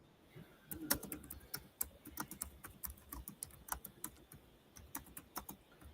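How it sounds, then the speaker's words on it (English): Someone typing on a computer keyboard, quick faint clicks in irregular bursts over a low background hum, with no voices. "Who's typing?"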